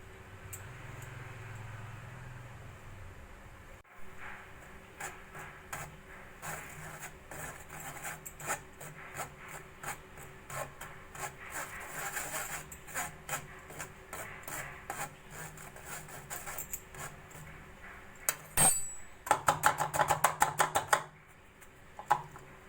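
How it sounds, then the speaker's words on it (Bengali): Gram flour and rice flour are shaken through a sieve, giving soft, close rubbing and scraping with repeated light taps that quicken into a brief flurry near the end. "চালের গুঁড়ো আর বেসনটা আমি ভালো করে চেলে নেব এইভাবে আস্তে আস্তে করে চেলে নেবো"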